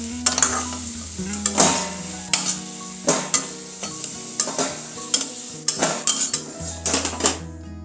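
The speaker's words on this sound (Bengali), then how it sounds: "আলুগুলোকে এখন একটি অন্য পাত্রে তুলে নিচ্ছি।" Fried potatoes are scooped from a pan into another pot, with repeated scraping and clinking of a metal utensil against cookware in short irregular bursts. A soft sizzle sits underneath the clatter.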